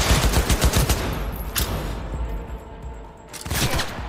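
Bursts of automatic gunfire in the video game Cyberpunk 2077, loud rattling volleys at the start that thin out, then another sharp burst near the end, no talking.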